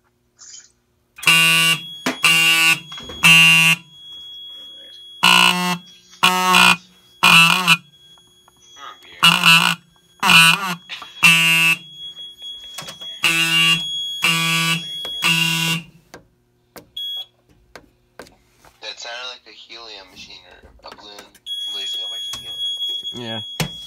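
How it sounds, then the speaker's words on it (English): A smoke alarm blares in loud repeated triple bursts, then stops, leaving quieter chirps and some speech afterward. "Now let's test the smoke detector."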